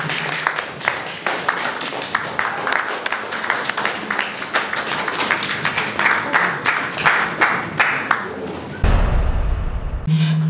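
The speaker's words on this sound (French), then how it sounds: "Par les applaudissements, bien sûr, de l'Assemblée." An assembly claps and applauds as Antoine Félix Tshisekedi enters the hall, a dense, uneven crackle of many hands that cuts off abruptly near the end, followed by a brief low rumble.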